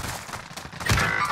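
Gunfire in Call of Duty Warzone, a dense burst of shots with a heavier thud near the end, loud and close, with no talk over it.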